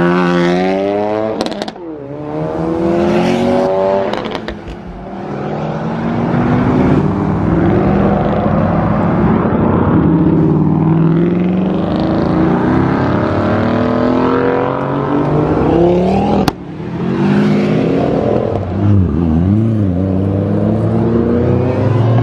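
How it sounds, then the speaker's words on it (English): A stream of Fast Ford cars leaving a car meet roars past close by one after another, engines revving and rising and falling in pitch as each passes, with a sharp bang near the end. "That was a lot of cars, but we got even more coming now."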